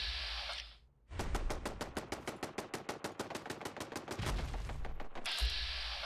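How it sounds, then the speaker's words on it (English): Fallout 4 machine gun unloads in one long burst of rapid, evenly spaced shots lasting about three seconds, loud and close, with a short quiet gap before it and steady game ambience on either side. "there's a machine gun there, machine gun there. Even though these will shoot at me"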